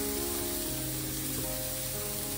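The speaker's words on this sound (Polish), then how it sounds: "Dosłownie parę sekund i wrzucam pieczarki." Mushrooms hit a hot pan of garlic and sizzle in a loud, steady, close-up hiss that fills the whole moment, with faint background music underneath.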